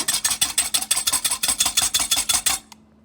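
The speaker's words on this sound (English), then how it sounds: "Just going to whisk all these ingredients together" Vanilla extract and other strawberry shortcake ingredients whisked together in a bowl, a fast, steady run of close rhythmic clinking strokes that stops abruptly.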